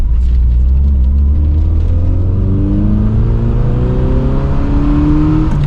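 An MG Metro engine under way as it shifts down into second gear, a loud close rumble with engine tone rising and climbing steadily in pitch as the car accelerates; no talking.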